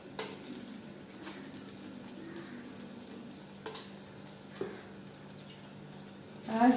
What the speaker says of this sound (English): So add the salt and give a quick stir.